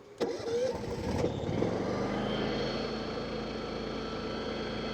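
After a brief rattle of startup, a small portable generator engine drones steadily at full power at a constant pitch, fairly quiet and even throughout.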